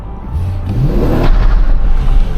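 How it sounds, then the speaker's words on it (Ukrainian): A BMW car at full throttle gives a loud, rising engine roar, revving up strongly over a couple of seconds as it pulls away, heard from inside the car. "я нажал газ полный, поехала"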